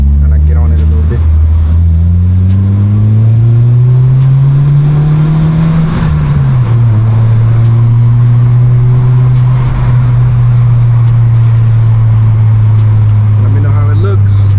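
A car with its windows down accelerates hard along an almost empty road at about four in the morning, the loud engine drone climbing in pitch, dipping briefly at a gear change, then pulling steadily again with wind rushing in.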